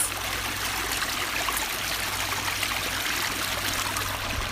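Flowing stream water in California after a drought, a steady, bright rushing and trickling that fills the whole clip at even strength, close by with no talk.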